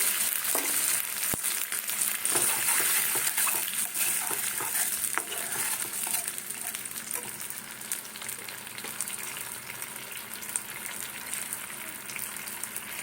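Tomatoes sizzling and frying in a pan while being stirred for a momo sauce, a steady close hiss with scraping stir strokes and small pops, no talking.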